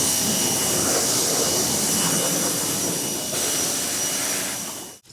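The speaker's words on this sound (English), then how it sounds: "we'll do a spray down to get all the dirt out" Water is sprayed over the dusty engine bay of a Cadillac SUV, making a steady, close, loud rushing hiss that holds for about five seconds and then cuts off abruptly.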